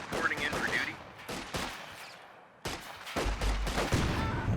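Rifle grenade fire in the World War II strategy game Company of Heroes 2, with a series of sharp blasts and gunshots, a brief quiet lull midway, then a heavier close explosion followed by more firing, all without speech.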